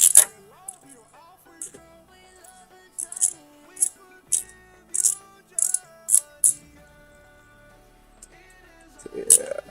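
A ratchet loosens a bolt on an engine intake in a regular series of crisp, close clicking bursts with brief pauses, some faint mechanical tones and a voice in the background.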